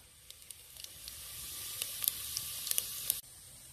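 Cumin seeds dropped into hot oil over an outdoor forest cooking fire, a rising hiss with sharp crackling pops that stops abruptly near the end.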